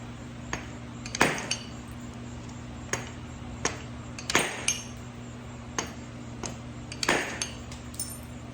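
A wide-faced mallet strikes Georgia jasper during flint knapping, sharp knocks landing irregularly about every second or two, several harder blows standing out over a faint steady background hum.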